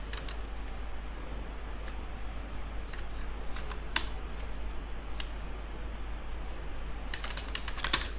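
Computer keyboard typing, scattered light key clicks in short bursts over a low steady hum, with a quicker flurry of taps toward the end.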